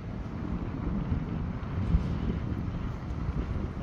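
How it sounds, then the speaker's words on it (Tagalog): Steady wind blows around the base of Torre Sevilla, a skyscraper with some parts still under construction, in cold weather, making a continuous broadband rush and buffeting across the microphone with no voices. "Medyo malamig po ngayon at medyo mahangin."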